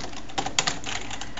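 Brief light keystrokes on a computer keyboard, a few soft scattered clicks over faint background hiss with no voice.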